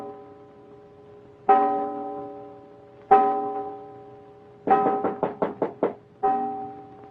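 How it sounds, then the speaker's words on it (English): Knocks on a wooden door: two single raps, then a quick burst of several knocks, and one more, resonant and fairly close. "You hear him knock on that door."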